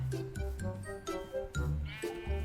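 Sheep in Minecraft bleat several times in short, wavering calls spread across a couple of seconds, close and fairly clear, with no talking.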